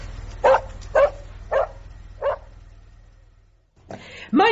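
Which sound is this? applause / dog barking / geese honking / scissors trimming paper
dog barking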